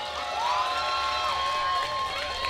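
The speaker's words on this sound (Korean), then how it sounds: "여러분들 박수가 좀 필요할 것 같고요" Outdoor audience at a youth dance contest during a spring flower festival at Taehwa River National Garden, a steady wash of crowd noise and applause with excited shouting, fairly loud and continuous throughout.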